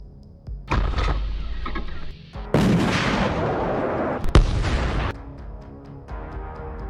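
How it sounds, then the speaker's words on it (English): Artillery shells fire and detonate around Ukrainian defensive positions in the Kharkiv region during combat, with loud sustained broadband blasts, a sharp crack in the middle, and a lingering rumble between bursts. "Shells are detonating just feet from their positions."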